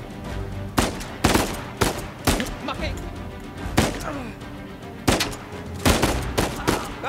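Gunfire in the video game Uncharted 4: A Thief's End, about nine or ten loud, separate shots at irregular intervals, close by, with quieter game sounds between them.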